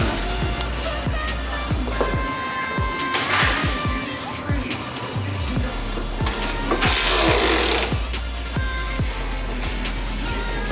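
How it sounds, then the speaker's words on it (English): Ball joint bolt on Super ATV forward A-arms being tightened, a rapid series of close, sharp mechanical ratcheting clicks with brief louder bursts of tool noise. "So I'm tightening the ball joint."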